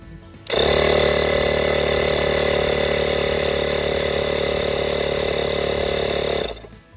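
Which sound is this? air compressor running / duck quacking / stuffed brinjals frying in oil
air compressor running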